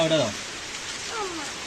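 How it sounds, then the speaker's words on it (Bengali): Heavy rain pours steadily in Jeypore, Odisha, a constant hiss filling the short scene while people talk over it. "আর এই দেখো কি হারে বৃষ্টিটা হচ্ছে"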